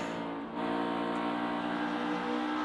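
NASCAR Xfinity Series race cars at full throttle during the Andy's Frozen Custard 300, a sustained loud engine drone with steady harmonic pitch that holds throughout.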